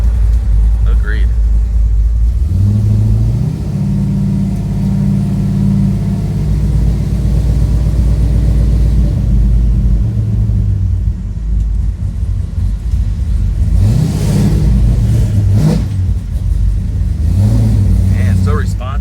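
A 1968 Chevy Impala custom coupe with a 540 cubic-inch V8 making 728 hp and a TH400 transmission rumbles loudly and deep, with throttle swells near the start and again later, while voices talk over the engine throughout.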